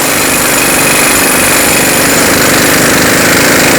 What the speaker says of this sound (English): Using a 36mm socket, remove the axle nut.